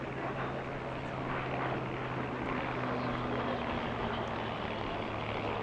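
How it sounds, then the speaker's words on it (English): P-51D Mustang propeller aircraft flying in formation at an airshow give a steady droning engine hum with a low tonal buzz, moderately distant and unbroken, with no talking. "Here we see a formation sequence led by Stephen Stead in P-51D Little Rebel"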